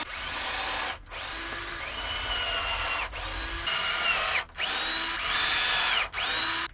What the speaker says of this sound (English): I'm just gonna drill this last bit on and then seal them.